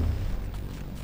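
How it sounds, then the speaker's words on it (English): A rail cannon beam fires from a vehicle in the MetalCore game as a loud, low, sustained booming roar that fills the whole moment with no talk over it. "that is like a rail cannon beam"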